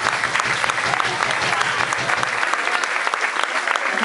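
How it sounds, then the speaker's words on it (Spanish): A crowd applauds after a joke at a comedy performance, lively rapid clapping close by and fairly loud, sustained for several seconds with some voices mixed in. "Pueden aplaudir, ¿eh?"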